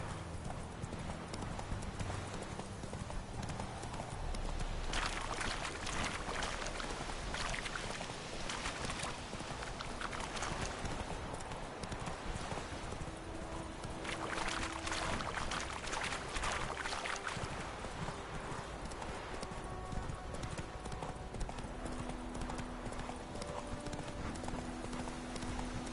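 Horse hooves clip-clop steadily at a galloping pace through the whole stretch in The Witcher 3, with ambient game sounds and occasional whinnies, fairly loud and continuous with no talk over it.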